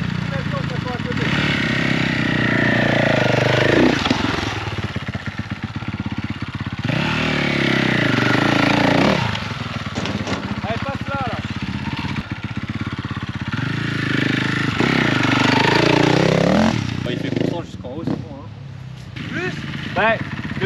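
Stunt motorcycle engine revved hard in repeated long throttle pulls, rising and falling in pitch, loud and close, with people talking in French between and over the revs.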